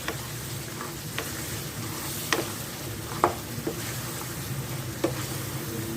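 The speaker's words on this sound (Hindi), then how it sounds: "तो यहाँ मैं पहले भूनती हूँ गोश्त को" Beef sizzles steadily in a pan while being stirred, with a constant frying hiss broken by occasional sharp scrapes and clinks of the spoon, close and with no voices.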